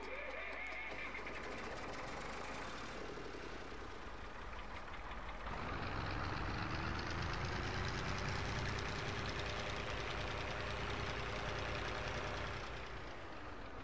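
A Zetor tractor engine from Farming Simulator 22 runs steadily at idle, a continuous low mechanical drone with a rhythmic knock that shifts to a fuller, slightly revved tone partway through, close and without talk.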